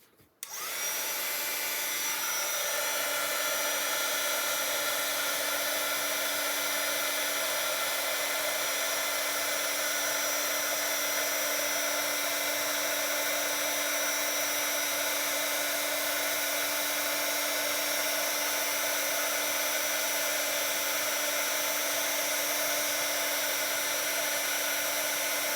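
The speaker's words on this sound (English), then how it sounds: "my heat tool is all warmed up" Heat tool for card making blowing hot air in a steady, loud, continuous whoosh with a constant hum, starting abruptly and running unbroken throughout.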